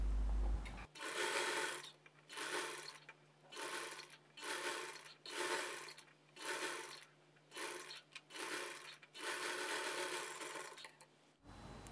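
A sewing machine stitching a folded dress neck edge runs in about eight whirring bursts separated by short pauses, close and steady with a faint hum underneath, no speech.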